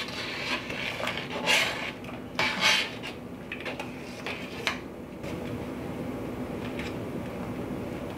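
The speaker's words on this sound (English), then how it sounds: "And keep mashing as you stir." Peach and plum jam being stirred and mashed with a big spoon in a pot, scraping and clinking against the pan in irregular strokes, then a softer, steady bubbling sizzle, close and without talk.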